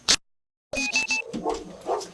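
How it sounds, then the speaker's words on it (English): Several dogs bark in a short burst at a police bodycam scene, with a brief yelp, a pause, then a series of loud close barks and yips overlapping. "Watch out for these dogs."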